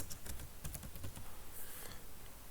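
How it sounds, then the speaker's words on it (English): Keys tapped on a computer keyboard while entering a value into a spreadsheet cell, a quick close run of clicks that thins out toward the end, with no voices. "you type in the value you want to enter"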